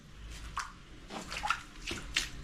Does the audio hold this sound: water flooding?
yes